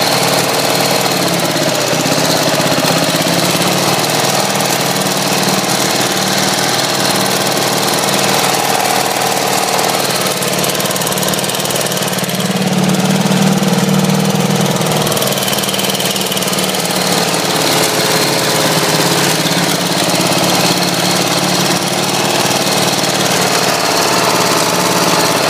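Small tractor engine running in fifth gear, a loud, steady, rough chugging drone with a knocking vibration, close by and continuous, with a brief swell partway through.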